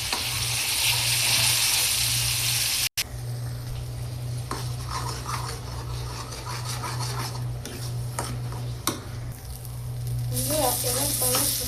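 Banana peel paste sizzles steadily in a hot wok while being stirred, a continuous close frying hiss with scraping, broken by one brief cut, with a voice speaking faintly near the end.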